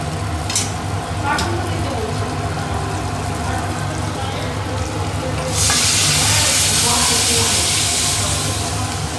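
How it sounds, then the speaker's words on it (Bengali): Garlic, onion and tomato fry in a pan for dal, a steady close sizzle that swells into a louder, brighter hiss partway through, with a few stirring scrapes early on and no talking. "আর এখানে রয়েছে এটা ভাজছি ডালের জন্য"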